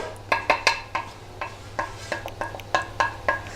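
Spices, chili powder and garam masala, stirred into a pan of Kerala beef curry over a low flame: repeated scraping clinks of a spoon against the pan in an uneven rhythm, close and fairly clear, with a low steady hum beneath and no talk.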